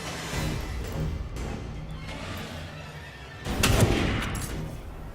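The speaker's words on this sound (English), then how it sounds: "let's try to shoot him with the sniper" A sniper rifle fires inside The Evil Within 2, a single heavy shot near the end that rises briefly above a dense, continuous rumble of game ambience.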